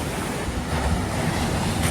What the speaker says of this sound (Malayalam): ഇപ്പം ഇതുവരെ തിര വരുന്നുള്ളൂ